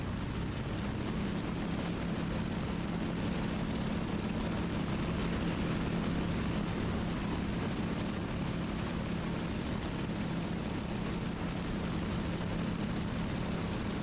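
A warplane's engine in a video game drones steadily, a dense, unbroken roar with a low hum that holds at the same loudness for the whole stretch, with no talking.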